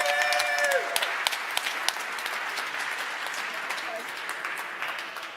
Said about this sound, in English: big round of applause for Toby